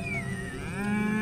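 Cattle grazed by Maasai herders outside a park in the African savanna give a single sustained, drawn-out moo with rich harmonic tone, fairly close and clear, with no voices.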